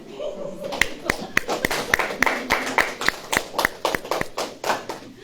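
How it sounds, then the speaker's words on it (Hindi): An audience at a sermon gathering claps in quick, even unison beats, a long run of crisp claps under and between a voice. "ताली हो जाओ।"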